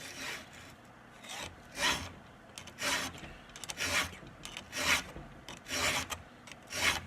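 A chainsaw chain tooth is sharpened with a hand file, producing about seven close, rhythmic rasping strokes spaced roughly a second apart, quiet and alone without talk.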